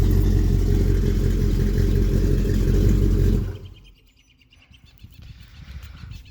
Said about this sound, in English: it's on the warm-up cycle right now because the truck's cold soaked, so it's not going to be super lopey right now